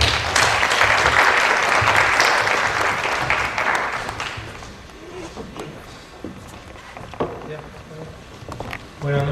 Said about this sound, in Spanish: Recibamos con fuertes aplausos al doctor José Neira Flores.